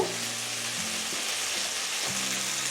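Spices with Kashmiri chilli powder and a little hot water sautéing in a pan for a Bengali-style country chicken curry, making a continuous close sizzle and bubbling with faint stirring, with no talk.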